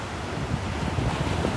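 Ocean surf breaks along the muddy, shallow beach off Ponte Vedra Boulevard in northeast Florida, a steady close roar of churning water mixed with gusting wind against the microphone.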